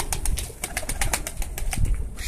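Pigeons kept as play birds flap their wings in rapid repeated bursts with soft low cooing underneath, close by and fairly loud throughout.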